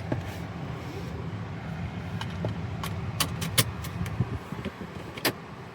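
Interior sounds of a 2014 Kia Optima SX Turbo setting off on a drive, with a steady low road and engine hum under scattered clicks and light mechanical taps, all at moderate level without talk.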